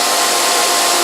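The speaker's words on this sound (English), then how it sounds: "So sounds like a vacuum cleaner." A spray gun being cleaned gives a steady, loud airy rush much like a vacuum cleaner, continuous and close for a short burst with no voices.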